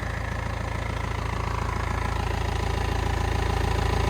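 BMW 320d E46 with the M47 diesel engine idling after an oil and filter change, a steady low rumble with a faint rhythmic diesel clatter, continuous and close, with no talking.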